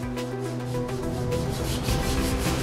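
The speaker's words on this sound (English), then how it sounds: "Begin by sanding areas to be bonded with the 60 grit emery cloth." Fiberglass phenolic conduit being sanded with 60 grit emery cloth, a steady continuous rubbing scrape with rhythmic back-and-forth strokes, close and fairly loud with no talking.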